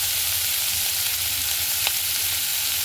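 Fish fat sizzling loudly in a pan as it renders out oil, an even close hiss that holds steady with a single faint tick partway through.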